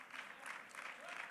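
Audience applause at an awards ceremony, a faint, thin patter of clapping from a crowd, brief and uneven.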